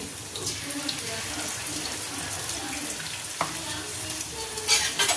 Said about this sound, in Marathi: आता मी एकाच वेळेस सगळ्या मिरच्या तळून घेतल्या